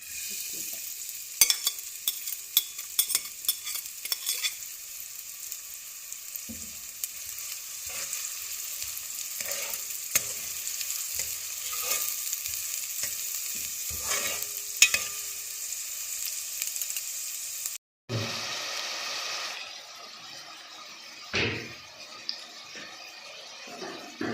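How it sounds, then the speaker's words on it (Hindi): Chopped onions frying in a pan and stirred until lightly browned, a steady close sizzle broken by frequent scraping stirs and clicks of the spoon, pausing briefly near the end before the sizzle resumes. "इस प्याज को हल्का हल्का बस ब्राउन करना है, ज़्यादा नहीं काला करना"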